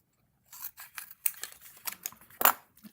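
Scissors snip a paper bunny ear for a craft box, a quick run of about eight crisp, close cuts in an uneven rhythm, the last one the sharpest.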